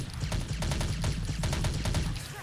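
Rapid bursts of video game gunfire from a battle royale-style shooter, clustered sharp shots firing in quick succession throughout, loud and close with a dense low rumble underneath.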